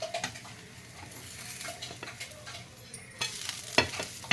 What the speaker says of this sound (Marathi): पूर्ण बाजूने असा डोसा सुटतोय आणि क्रिस्पी होतोय